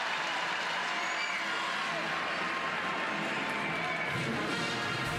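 An energetic arena crowd at a women's college gymnastics meet between Oklahoma and Arkansas in the Lloyd Noble Center keeps up a continuous wash of cheering and applause, broad and even from start to finish.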